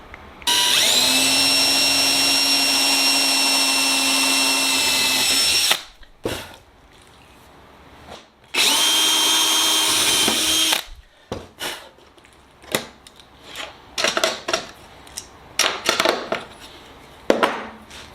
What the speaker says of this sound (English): use it as a drill template so we can drill down into that splice